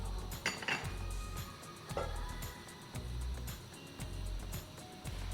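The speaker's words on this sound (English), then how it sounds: "And you're going to continue to mix this until everything is well combined and creamy." A spoon stirs low carb keto lemon bar batter made with almond flour. Quiet, steady scraping and clinking against the bowl repeats in an uneven rhythm, with no talking.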